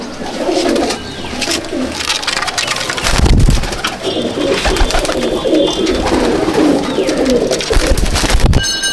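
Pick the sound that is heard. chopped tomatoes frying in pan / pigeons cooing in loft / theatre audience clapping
pigeons cooing in loft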